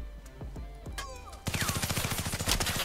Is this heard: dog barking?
no